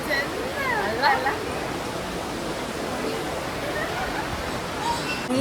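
A river flows near the Kateel Durga Parameshwari temple with a continuous broad rush of water. Birds chirp over it, and voices murmur in the background.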